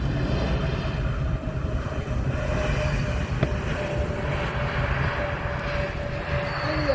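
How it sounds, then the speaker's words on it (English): An Airbus A321 jet arriving from Istanbul lands at Amsterdam Schiphol, its engines a steady distant roar with a faint whine running across, heard outdoors without talk. "An Airbus A321 landing over here"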